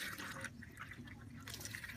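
Hot water poured from a pot over a synthetic wig makes a quiet, continuous splashing trickle that lasts the whole moment with no pauses.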